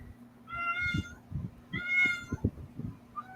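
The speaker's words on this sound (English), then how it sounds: "I know you hear the kitty, don't you?" A pet cat gives two clear, drawn-out meows close by indoors, with soft thumps and faint handling noises in between.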